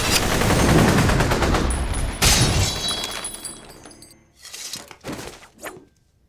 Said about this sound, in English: The next thing that we did was to actually put in the bullet hits.